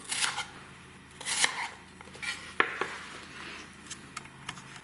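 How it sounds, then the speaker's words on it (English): A knife cutting bok choy on a cutting board for a chicken and pork stir-fry, heard as a few quick, scattered chops and taps at close range with no talking. "And the bok choy I'm going to cut similar."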